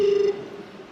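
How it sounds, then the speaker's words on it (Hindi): A telephone tone on a call sounds as a steady electronic beep for about a third of a second, then cuts off into a faint line hiss, with no talking. "उठाओ शिव बाबा, टेलीफोन उठाओ।"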